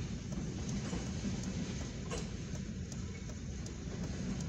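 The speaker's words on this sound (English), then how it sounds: "mixed freight train here" A CFE mixed freight train rolls westbound on a cold morning, a steady low rumble of wagons passing with faint rhythmic clicks and rattles on the rails, heard from a moderate distance and unbroken by voices.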